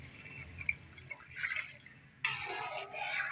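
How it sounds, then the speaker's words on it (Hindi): Water poured into a pot of chicken, potato and pea curry, first a few faint drips and trickles, then a louder steady pour splashing in near the end. "अब इसके अंदर पानी डालूंगी इसको गलाने के लिए"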